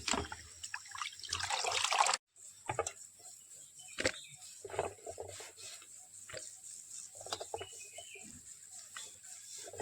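Water trickling and splashing while fish is rinsed clean by hand for a Malvani fish fry, a close steady pour with a brief cutoff, then intermittent dribbles and splashes.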